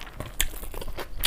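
Quick crunchy bite and chewing sounds up close during a mukbang of roasted chicken and potatoes, egg curry, dal and rice, with a few crisp crackles over about a second.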